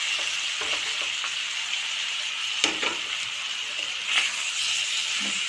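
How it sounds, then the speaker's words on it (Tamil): Grated vegetables for a vegetable chutney sizzle steadily in a hot pan, with a few clinks and scrapes of stirring breaking through the continuous frying hiss. "இப்போ நம்ம இதில் சேர்த்துடலாம் சீக்கிரமாக வதங்கிடும்"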